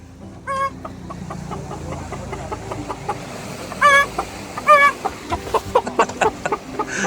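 A voice imitates a rooster, giving a short crowing call followed by bursts of rapid clucking, close and fairly loud.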